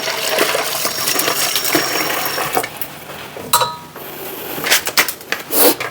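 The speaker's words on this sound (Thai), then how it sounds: "พอเสร็จแล้วเราก็ไปล้างน้ำเขียวออก" Pickled mustard greens are rinsed in water by hand, with steady splashing and sloshing throughout, sharper clatters and splashes toward the end, loud and close.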